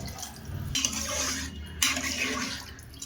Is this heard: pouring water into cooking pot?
yes